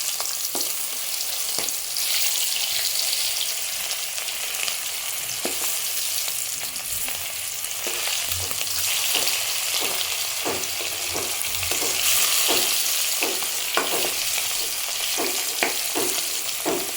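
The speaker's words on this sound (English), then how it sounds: "I'm going to be taking care of all this chicken over here and frying it" Chicken frying in a pan for biryani, a continuous loud sizzle with occasional clinks and scrapes of stirring, close up and steady throughout with no talk.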